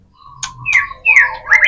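Trotolan, a prinia songbird, gives a short series of sharp chirps and squawky calls, close and loud, rising in a quick burst of about four notes.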